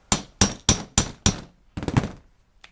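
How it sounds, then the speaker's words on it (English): Five sharp, evenly spaced metallic hammer blows on a punch set in a motorcycle handlebar end, followed by a quicker cluster of lighter taps, with no talking. "take a hammer and beat on the end of it"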